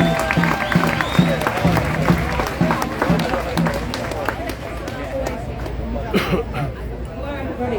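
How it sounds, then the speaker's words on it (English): Applause and cheering from a crowd at a Free Palestine rally in Melbourne, a steady dense roar of clapping and chatter that gradually eases, with voices mixed throughout. "Give her a big round of applause to Kim."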